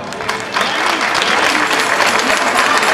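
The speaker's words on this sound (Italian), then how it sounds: "Un applauso." An audience at a Barra festival breaks into sustained, dense applause that starts suddenly and holds steady, loud and close.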